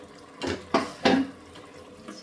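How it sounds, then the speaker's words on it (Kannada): Water splashing and sloshing in a blender jar as it is rinsed and filled in a kitchen, three short watery bursts close by with quiet gaps between, no talking. "ಇದಂಗೆ ಜಾರ್ನ ತೊಳ್ಕೊಂಡು ಸ್ವಲ್ಪ ನೀರನ್ನ ಹಾಕ್ಕೊತಾ ಇದ್ದೀರಿ."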